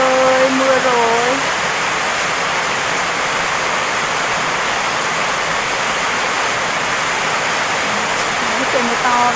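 A steady, dense roar of heavy rain falling on a farm, constant and loud across the whole stretch, with a voice speaking briefly at the beginning and again near the end.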